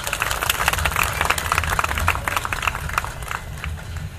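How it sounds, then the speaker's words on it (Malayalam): Steady applause from an audience at a political campaign speech in Kerala, a dense, sustained wash of clapping with crowd noise, fairly loud and continuous throughout. "ഈ കയ്യടി എൻ്റെ വാക്കുകൾക്കുള്ളതല്ല"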